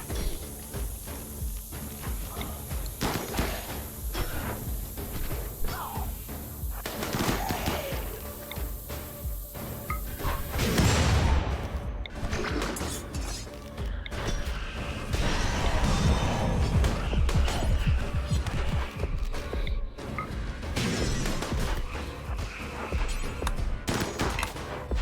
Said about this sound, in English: So the explosions that we're having are pretty far away from the corpses that are being downed